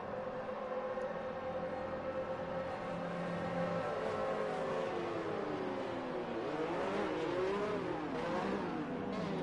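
Video game F1 2019 cars circle the Silverstone circuit on the formation lap of the British Grand Prix, a steady layered engine drone with rising and falling pitch sweeps as cars pass, continuous and moderately loud with no talking.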